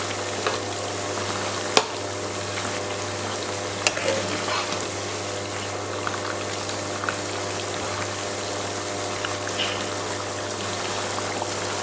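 Mutton deep frying in oil makes a steady, dense sizzle with a low constant hum underneath and a few sharp clicks now and then, holding an even level throughout.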